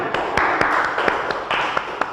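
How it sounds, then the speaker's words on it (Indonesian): A classroom of pupils claps hands during a lesson, a few scattered, sharp claps that come in uneven bursts over a faint background murmur. "Oke, tepuk tangan."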